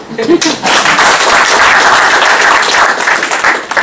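Meetup audience at a Scrum Bangalore retrospective event breaks into applause, a dense steady patter of many hands that swells quickly and holds, with some voices mixed in.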